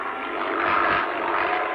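A steady propeller airplane drone hums at moderate distance overhead, a smooth continuous whir holding level throughout with no voices.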